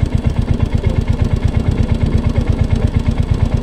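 A Royal Enfield Hunter motorcycle's single-cylinder engine idles close and loud, a steady rapid thumping pulse with no voices over it.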